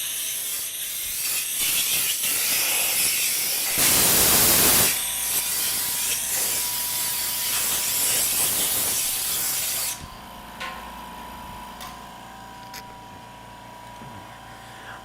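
An air compressor runs loudly in a workshop, with a blasting burst of hissing air and mechanical clatter, then drops to a lower steady hum with faint clicks.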